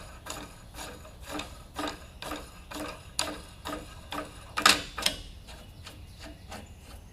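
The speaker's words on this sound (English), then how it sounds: "we're going to screw the jacking screw in until it stops" A jacking screw is turned into a bearing outer race to press it out, giving a steady run of rasping, ratchet-like strokes roughly twice a second, close and moderately loud, with sharper metallic clicks near the end.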